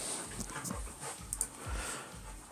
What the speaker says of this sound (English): I'm gonna have my dogs being loud in the background.